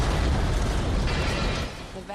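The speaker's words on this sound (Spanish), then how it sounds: "Y luego se produjo la explosión." An explosion tearing through an industrial estate after a natural disaster strikes its metal buildings: a loud, sustained roaring blast of rumbling noise that holds steady for about two seconds before easing slightly at the end.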